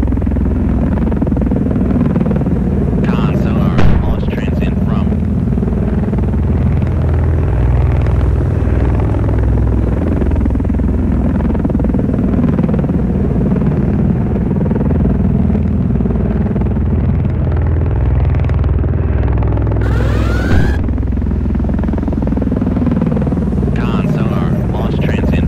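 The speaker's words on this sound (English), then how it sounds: "helicopter fleet." A helicopter fleet in the Cold Waters naval combat game gives a loud, steady rotor and engine rumble that fills the whole stretch, with a voice talking over it at times.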